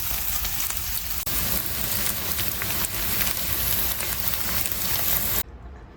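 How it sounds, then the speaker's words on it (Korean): Bean sprout pancake frying in plenty of oil, a loud, steady crackling sizzle filling the whole stretch before cutting off near the end. "역시나 기름을 많이 넣은 뒤에 약간 튀기듯이 전을 만들도록 하겠습니다"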